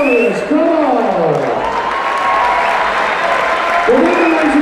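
At an Ultimate Force 5 fight event, a crowd applauds and cheers for two fighters, a loud and steady roar of claps and shouts. An announcer's amplified voice rises and falls over it.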